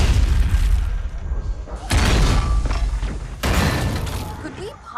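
Covenant enemies open fire in Halo 2, with booming blasts, thuds and crackling impacts in three loud dense waves over a game soundtrack.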